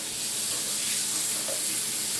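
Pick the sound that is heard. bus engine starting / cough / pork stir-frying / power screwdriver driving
pork stir-frying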